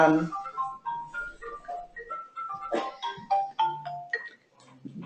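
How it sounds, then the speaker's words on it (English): A mobile phone rings with a melodic electronic ringtone, a rising and falling run of bright synthetic notes repeating for several seconds, fairly close and loud, fading toward the end. "I think you might have heard that Vicky's phone just rang"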